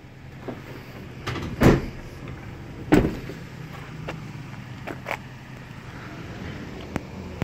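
Several hard metallic thuds and clunks of the rear doors of a 2018 Ford Transit Custom short-wheelbase crew van being opened and shut, with a few lighter knocks spaced out between them.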